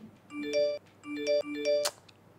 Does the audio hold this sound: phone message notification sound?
yes